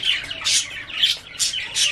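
Pigeons pecking and feeding around a rooftop tea spot give off short bright chirping calls, about four bursts in two seconds, close and moderately loud with no one talking.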